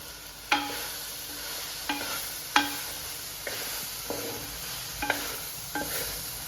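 Capsicum sizzles gently in a pan over a lowered flame, with six or seven sharp stirring scrapes of a spoon against the pan at uneven intervals over a steady soft frying hiss.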